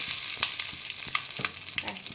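Curry leaves dropped into hot tempering oil crackle and sputter loudly, with sharp pops and spatters over a continuous close sizzle.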